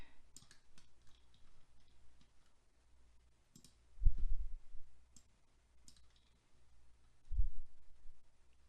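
A few quiet computer mouse clicks tick in a quiet room while someone redraws a floor plan in space survey software, with brief soft thumps between them.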